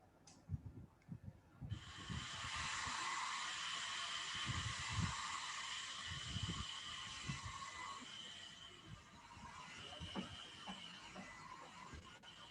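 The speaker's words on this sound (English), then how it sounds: "this guy is the vacuum cleaner. So all the dust will be sucked by the vacuum cleaner." A vacuum cleaner on a manual tool-change milling and routing machine switches on with a loud, steady whooshing suction roar that holds, then eases to a lower drone, with clunks and knocks beneath.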